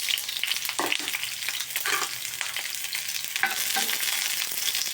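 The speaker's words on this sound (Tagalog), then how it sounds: "Lagyan na natin ng sibuyas." Onion sautéing in oil in a pan, a steady bright sizzle with occasional crackles and stirring scrapes, close and continuous with no talking.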